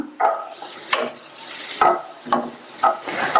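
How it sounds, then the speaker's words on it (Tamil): Radish sautés in a pan for mullangi thuvaiyal while a spatula scrapes and pushes it around, giving about six rough rubbing strokes in a steady rhythm over a light sizzle, close and clear. "7 நிமிஷமா முள்ளங்கி வதங்கிட்டு இருக்கு."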